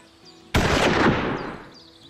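A single loud scoped rifle shot with a 4x12 scope in a hunting video game, a sharp crack that fills the clip and then rolls off in a long fading echo.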